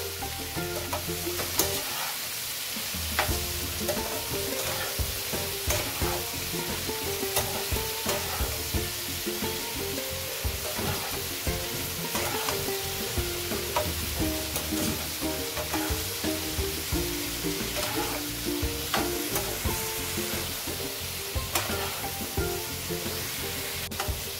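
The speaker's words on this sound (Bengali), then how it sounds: "এবার একটু মিশিয়ে নিলাম।" Eggplant and hilsa fish head sizzle and fry steadily in a pan, with repeated scraping and stirring clatter over a continuous close, dense crackle.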